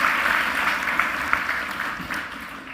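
Audience applause at a disability awards event, steady clapping from a crowd filling the room throughout with no voices over it.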